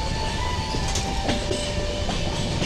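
The Amaravati Express rumbles steadily along the rails on the Goa to Vijayawada run, heard from inside a carriage near the rear of the train. It is a continuous loud clatter and roar with faint squeals, with no talk.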